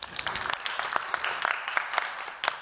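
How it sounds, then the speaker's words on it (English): A round of applause at a Food Tank event during Sundance, honoring an executive chef and his team: dense, steady clapping from a modest crowd, close and sustained for a few seconds with no talking over it. "Please give them a round of applause."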